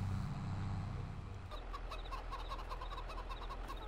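Chickens cluck repeatedly in the Farming Simulator 22 video game, several birds heard close by. A low engine hum rumbles underneath at the start and then drops away.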